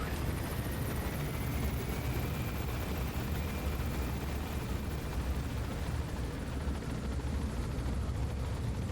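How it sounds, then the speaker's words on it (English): A helicopter in Metal Gear Solid V: The Phantom Pain produces a constant, loud rotor and engine roar, with a steady dense rumble and no speech. "Just looking at the microphone picking up the chopper."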